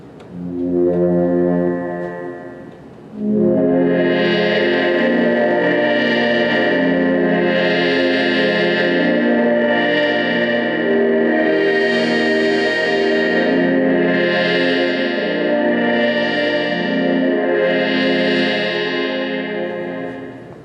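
An Ensoniq ESQ-1 digital synthesizer sustains a rich, bright chord with a slow swelling, pulsing modulation, preceded by a shorter lower tone, loud and continuous.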